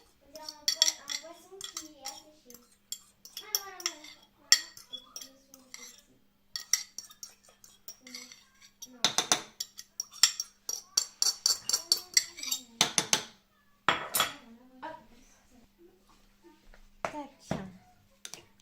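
Spoon clinks and scrapes against a bowl as crushed garlic from three cloves is mixed into tomato bread ingredients, coming in irregular bursts of sharp taps while a person talks in between.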